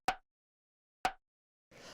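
A pair of short, woody rim shot hits from an organic deep-house drum sample set, dry and tight with almost no tail, about one second apart, followed by a brief softer noise.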